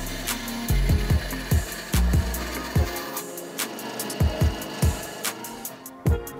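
A saw with a mitre fence makes a 30-degree cut across a wooden steak knife blank, heard as a rhythmic series of short, close, loud rasping strokes with brief pauses between them.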